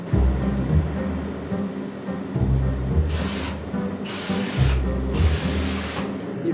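Several bursts of aerosol foam cleaner spray hissing, each a second or so long, loud and close, with a low rumbling background between them.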